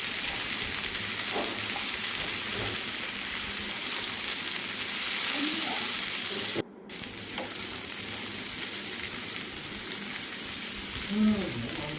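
Potatoes stir-fried Kerala mezhukkupuratti style in a pan, a steady broad sizzle and frying hiss running throughout with faint scraping stirs, briefly cutting out midway before resuming.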